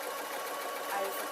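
A sewing machine runs a steady, continuous stitch along a seam while lining a waistcoat, a close, even whirr with no pauses over the short stretch.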